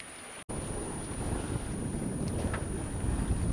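Sailboat under way in wind off Corsica during a summer cruise from Porto-Vecchio, heard as a steady rush of wind buffeting the microphone over water noise, continuous and fairly loud after a brief dropout at the start.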